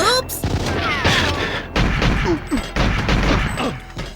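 Gunfire in the GoldenEye 007 video game, a series of loud, sharp, repeated shots with synthetic ricochet-like tones and short bursts spread across a few seconds, with some talking in between.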